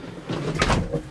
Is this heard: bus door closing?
yes